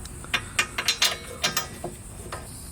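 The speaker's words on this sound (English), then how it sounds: "Grab your 15mm wrench so that you can tighten up these bolts." A 15mm wrench ratchets as it tightens brake caliper bolts on the rear brakes of a 2008 Ford Taurus X. Quick clicking bursts come close up, about a dozen metallic ticks in uneven runs, with no voices.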